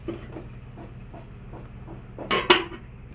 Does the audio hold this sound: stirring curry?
yes